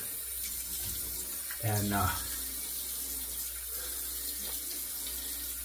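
Water running from a bathroom tap to rinse a boar-bristle shaving brush, a steady soft stream close by with a brief louder splash, and a voice speaking briefly.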